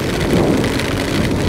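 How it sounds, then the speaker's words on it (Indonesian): Rain falling heavily during a motorcycle tour from Surabaya to Blitar, a dense, continuous loud hiss of downpour with no voices. "hujan lagi teman-teman."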